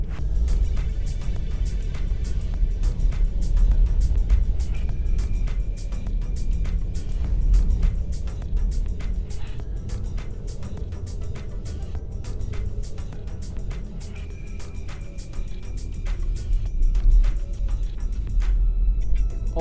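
A VW ID.3 electric car rolls along a gravel road through a winter forest, with a steady, close rumble of tires on loose stones and crunching throughout, and no talking.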